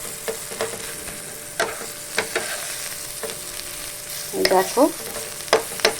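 Beetroot paste with poppy seeds frying in a pan, crackling and spattering in sharp scattered pops with a few louder bursts near the end; a voice speaks briefly.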